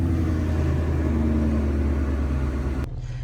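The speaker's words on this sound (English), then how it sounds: "Actually feels like a pretty smooth startup." A supercharged Ford Mustang GT V8 with 100,000 miles, fitted with a Gen 6 Whipple supercharger, idles loudly and steadily after startup, a deep continuous rumble that cuts off abruptly near the end.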